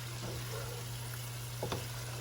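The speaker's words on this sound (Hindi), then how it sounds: "इसको भून लें अच्छी तरह से।" Steady low sizzling of chicken pulao ingredients frying in a pan, continuous and fairly quiet, with an electrical hum underneath and a faint clink of stirring near the end.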